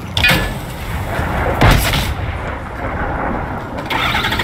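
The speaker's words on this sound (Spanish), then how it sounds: "Yo creo que le voy a disparar ahí al suelo." An explosive sniper rifle in Fortnite fires with sharp, booming cracks, two or three blasts each trailed by a rumbling decay. The shots sound close and loud and are heard alone.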